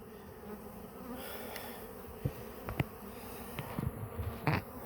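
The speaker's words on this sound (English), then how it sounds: "Y'all seen how many bees was up top." Honey bees buzzing around an open hive box, a close, continuous droning hum with individual bees zipping past the microphone in brief louder swells.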